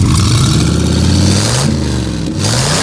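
A truck engine revs loud and close with whooshing turbo noises, the pitch climbing and falling in repeated sweeps over a steady rumble.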